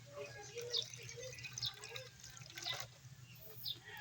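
A small amount of water is poured into a container holding fresh, mature mulberry cuttings set out for water propagation, giving light trickling and dripping sounds in short bursts, fairly close and faint.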